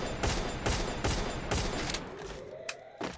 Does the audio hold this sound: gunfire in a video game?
yes